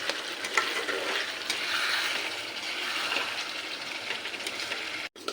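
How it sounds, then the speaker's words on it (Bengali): Potatoes and liver stir-fried in a pan, a dense close sizzle with scraping stirs running throughout, briefly cutting out near the end. "তো দেখো আলু আর মেটেটা এই যে কষানো প্রায় হয়ে গেছে"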